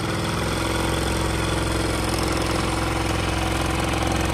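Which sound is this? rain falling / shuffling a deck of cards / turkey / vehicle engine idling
vehicle engine idling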